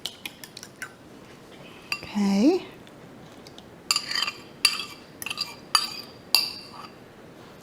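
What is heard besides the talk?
breaking egg yolks with a utensil in a dish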